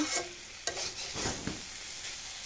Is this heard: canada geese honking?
no